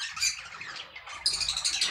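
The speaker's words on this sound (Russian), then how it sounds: "мы с вами снова в гостях у волнистых попугаев" Budgerigars squawk and chirp in a numbered aviary enclosure, a busy, overlapping chatter of sharp calls that grows louder and denser in the second half.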